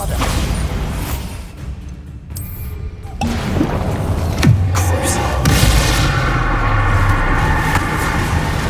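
The Bombarda explosion spell in the video game Hogwarts Legacy lands with a loud, deep boom and crashing impacts, followed by a sustained rumbling aftermath amid other combat noise.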